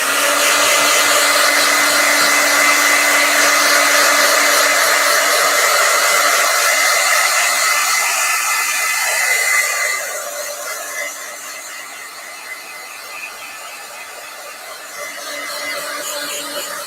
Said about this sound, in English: I'm going to hit them with the dryer just to make sure that they're all the way dry